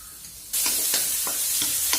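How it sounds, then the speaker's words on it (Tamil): Finely chopped onions sautéing in a pan for cauliflower paratha filling, a sudden loud sizzle that breaks in and continues steadily with stirring scrapes. "பொடியா நறுக்கி வச்ச வெங்காயம், இதெல்லாம் வதங்கட்டும்."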